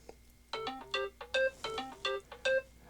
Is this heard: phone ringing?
yes